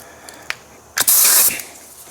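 Air impact wrench loosening 19 mm lug nuts on a 2021 Porsche Macan wheel: a few light clicks, then a loud, sustained hissing, rattling burst of about half a second, close up in a shop, without talk.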